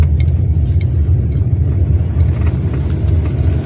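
A car drives over a road broken up by snow, giving a steady, loud low rumble of engine and road noise that runs unbroken and close throughout.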